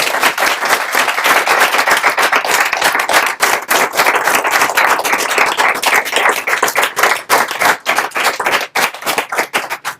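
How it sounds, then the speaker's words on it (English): A lecture audience at a Peace Corps program session gives a loud, sustained round of applause, dense hand claps filling the whole stretch with no voices. "can we just give them a round of applause, please?"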